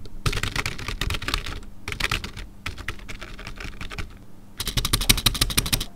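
Fingers type on a louder computer keyboard at close range, rattling out rapid clacking bursts separated by short pauses.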